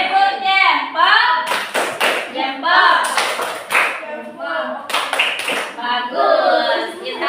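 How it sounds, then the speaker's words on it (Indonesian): Pupils in a classroom give a rhythmic thumb clap in bursts of sharp, loud claps, broken up by a voice talking between the rounds. "Kita beri tepuk jempol untuk Bilqis dan Abi."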